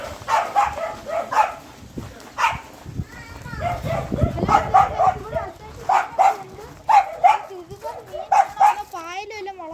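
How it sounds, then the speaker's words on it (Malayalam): Dog barks in several bursts near a large pond, heard beneath a person talking throughout. "ഇവിടെ പട്ടിയുണ്ട്, പട്ടിയൊക്കെ ഉണ്ട്."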